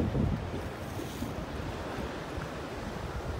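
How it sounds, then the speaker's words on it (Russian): Calm Black Sea surf at Sochi on a hot, clear day, small whitecaps rolling in steadily with a constant wash of wind and microphone buffeting, no voices. "море спокойное, только небольшие барашки от ветра"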